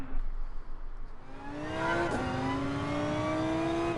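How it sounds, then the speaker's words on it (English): A Mercedes SLS GT3 race car in GT Sport revs up through a gear change, its engine note climbing in pitch, dropping at a shift, then rising again in a loud, close, sustained drone. "the SLS GT3 sounds good"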